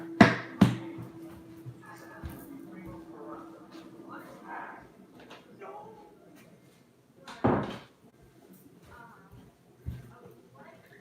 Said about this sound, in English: Let me go shut this door.